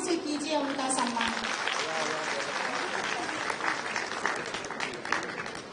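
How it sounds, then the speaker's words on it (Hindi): An audience gives loud applause to honour a guest at a women's workshop, with continuous clapping running beneath a voice speaking over it. "जोरदार तालियों से कीजिए उनका सम्मान"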